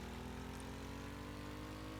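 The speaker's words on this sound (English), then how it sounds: "I'll spin up the engine. I'll give it full throttle." An engine in the video game Stormworks, spun up to full throttle before its supercharger engages, giving a steady droning hum with even pulsing and a constant level throughout.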